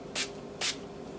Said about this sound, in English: what I'm going to use for that is the Wet n Wild Photofocus Natural Finish Setting Spray